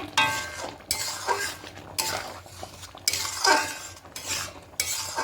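A spoon stirs garam masala powder into chicken moong dal in a metal pot, giving repeated scraping strokes broken by short pauses, with clinks against the pot's side, close and fairly loud, no speech.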